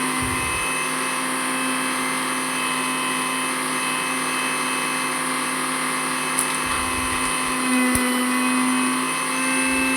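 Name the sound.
mixer grinder grinding chutney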